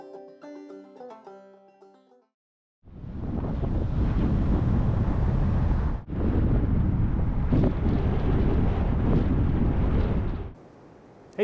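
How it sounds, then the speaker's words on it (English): Strong wind roars and buffets the microphone on the summit of Grandfather Mountain in the Appalachians. It begins after a few seconds of quieter sound, dips briefly midway, then continues loud and steady before easing off near the end. "It is windy out today."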